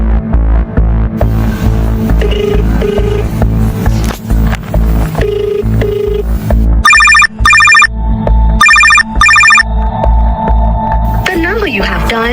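A telephone tone sounds after a number is dialed, with repeated bursts of a ringing or busy-type signal. The tone is loud and cuts in over dramatic film music and background noise.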